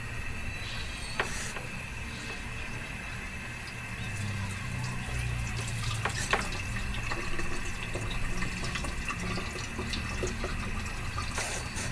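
Tap water runs steadily into a kitchen sink while a hotdog is rinsed under it, a continuous close splash with a few brief clatters, and a person talks over it.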